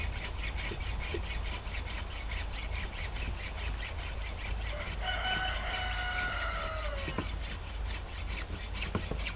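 A hacksaw cuts through animal parts for rendering fats in a fast, even back-and-forth rhythm of rasping strokes, close and continuous, while a rooster crows in the background partway through.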